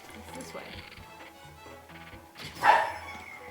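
A dog barks in the video game Breath of the Wild, a single loud yip rising near the end over game sounds and ongoing voices.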